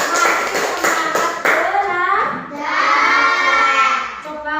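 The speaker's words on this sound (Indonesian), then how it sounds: "beri tepuk tangan" Children clap their hands in a classroom during a lesson, with a few quick bursts of claps at first, then excited young voices chattering and shouting over the end.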